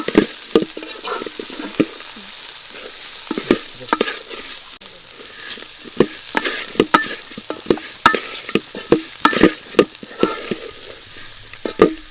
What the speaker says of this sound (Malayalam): പിന്നെ നമ്മുടെ ഈ ഗ്രേവി ഉണ്ടാക്കുന്നതിന് ആവശ്യമായ മുളകാണ് ഇപ്പം നമ്മൾ ചേർത്തേക്കുന്നത്.